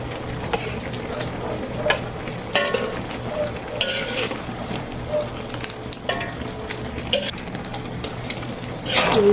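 A sweet mixture stirred after condensed milk is added, with a steady scraping, sizzling stir and scattered clinks from close by, carrying on without talk over a faint background hum.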